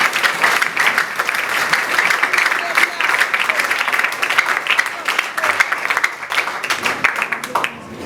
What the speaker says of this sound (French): Voulez-vous applaudir Israël Jean-Pierre pour nous?